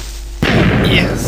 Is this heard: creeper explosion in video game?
yes